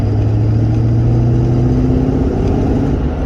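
A 2002 Ford Mustang GT V8 with new ignition coils pulling at full throttle in fourth gear from low RPM, a loud steady rumbling engine note that rises gradually, heard from inside the car.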